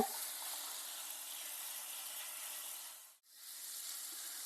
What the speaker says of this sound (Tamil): இந்த மாதிரி பனானா கூடவே கொஞ்சமா சுகர் சேர்த்து கேரமலைஸ் பண்ணிக்கோங்க